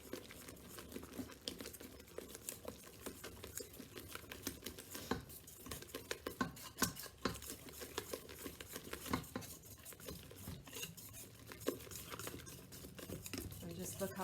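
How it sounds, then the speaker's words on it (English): Eggs being stirred into flour for challah dough in a bowl, a busy run of soft scraping, tapping and wet mixing strokes, close and steady, under light intermittent talk. "After each egg, just stir it up"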